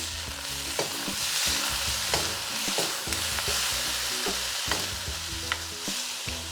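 Beef stir-fried in a hot wok, with a continuous loud sizzle broken by repeated scraping and clanking as the meat is pushed around. The stirring sounds come at an irregular rhythm and are close by.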